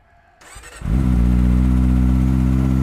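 A Kawasaki Ninja motorcycle engine starts after a brief crank and settles into a steady, low, rumbling idle, close and loud.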